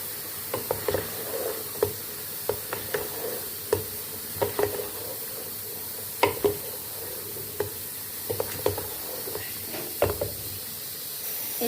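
Zucchini and chicken frying in a pan, a constant hiss of sizzling under repeated scraping strokes of a spatula stirring at an uneven pace, close and moderately loud.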